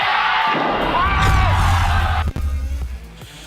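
A crowd at an MPL Indonesia esports match erupts in loud, sustained screaming and cheering, swelling for a couple of seconds before cutting off into quieter crowd noise.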